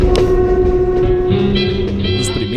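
Passenger train running through farmland outside Pindamonhangaba, Brazil, a loud steady rumble of wheels on rail with sustained tonal hum and squealing overtones, close by and continuous with no talk.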